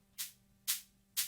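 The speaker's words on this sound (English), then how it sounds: "A hi-hat that plays with every kick." Three evenly spaced bright hi-hat hits about half a second apart, each crisp and quickly decaying, played alone over a faint low hum in an orchestral downtempo percussion arrangement.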